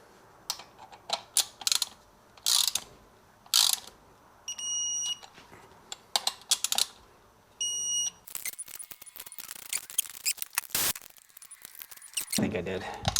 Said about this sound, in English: Okay, I'm going to torque those down.